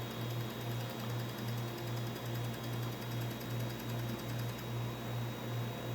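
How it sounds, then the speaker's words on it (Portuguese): BenMax BMGX50 13 kg ice machine with its compressor running and the condenser fan switched off, a steady close mechanical hum with a regular pulsing throb repeating about twice a second, alone without speech. "ela desligou o ventilador do condensador, tá só o compressor funcionando"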